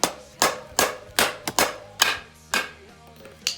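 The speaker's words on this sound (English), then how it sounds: "just hammer this guy through." Metal hammer blows driving a part through a CR125 motorcycle during teardown, about nine sharp, close strikes in an uneven rhythm, some in quick pairs, with no talking.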